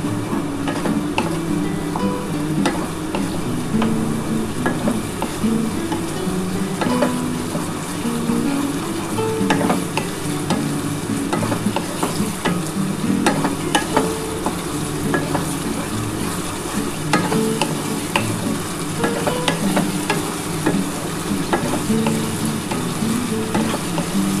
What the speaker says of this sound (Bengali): এবার খুব ভালো করে এটা কষিয়ে নিতে হবে